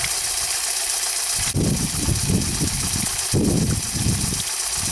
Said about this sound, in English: the ability for the turbine to turn at full speed